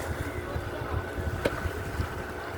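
A fishing boat's engine thrums low and close as it comes into Vaadi fishing harbour in Kollam, with wind buffeting the microphone over the short stretch.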